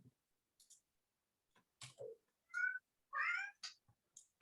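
A house cat meowing indoors in a quiet room, several short separate meows and chirps with small clicks between them, fairly close and alone.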